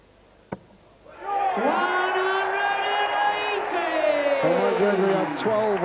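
Crowd at the 1993 Embassy World Darts Championship quarterfinal erupts after a short sharp thud, a loud sustained roar with whoops and cheers swelling and holding for several seconds.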